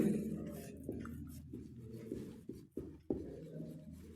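Chalk or marker strokes on a classroom board during an English grammar lesson, a steady run of scratchy, rhythmic strokes with short pauses, heard close and fairly faint with no talk over it.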